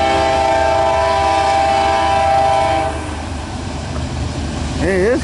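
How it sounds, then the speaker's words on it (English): A loaded CSX coal train passes close and loud with a sustained horn blast and rumbling, clattering wagons, the horn cutting off partway through as the rolling noise continues under a voice. "It might be a loaded coal train."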